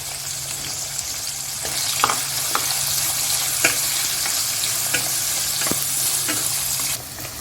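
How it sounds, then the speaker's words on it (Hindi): Finely chopped onions fry with garlic in hot oil, a steady close sizzle broken by occasional sharp scrapes and clicks of stirring. "और इसको अच्छे से भूनेंगे।"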